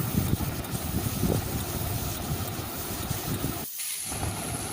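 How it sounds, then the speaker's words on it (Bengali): Prawns frying in hot oil with a little turmeric for a Bengali chingri tel jhal give a dense, steady crackling hiss that runs throughout, broken by a brief drop near the end. "1 থেকে 2 মিনিট চিংড়ি মাছটা ভেজে নেব।"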